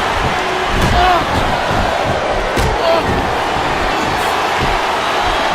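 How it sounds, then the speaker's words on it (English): A capacity crowd roars steadily at a wrestling arena in the WWE Smackdown vs Raw 2007 video game, a loud continuous din with thuds from the ring and a voice or two beneath it. "This capacity crowd is solidly behind their superstar."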